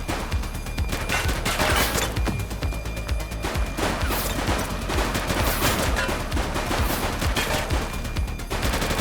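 Dense gunfire in the police video game The Precinct, bursts of rapid shots and fusillades filling the whole stretch, loud and close with no pauses.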